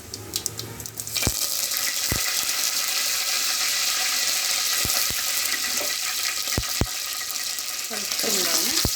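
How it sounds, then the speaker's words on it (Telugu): Curry leaves sizzling and crackling in hot oil on a stove turned low, a continuous loud fry with occasional sharp pops and a brief stirring clatter near the end. "ఇప్పుడు కరివేపాకు వేసుకుందాం"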